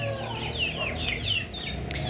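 Chickens cluck and chirp in quick, repeated calls near a spot where chick feed and water are being set out, several birds sounding close and fairly loud against a quiet farmyard background.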